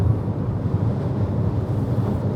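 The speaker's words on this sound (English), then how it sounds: "it is so windy out there at the moment" Steady, heavy wind roars and buffets the microphone, a dense low rumble filling the whole moment with no pauses.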